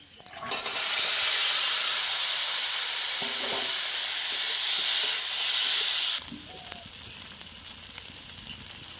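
Boiled potato pieces, tomato and peas hit hot oil in a pan for aloo dum, setting off a loud, steady sizzle and hiss that holds for several seconds, then drops abruptly to a quieter background sputter with faint stirring.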